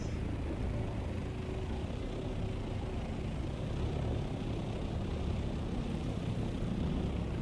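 Taxi aircraft flying in the video game Dune Awakening: a constant low droning rumble, like a rotor or engine, holds evenly throughout with no talk over it.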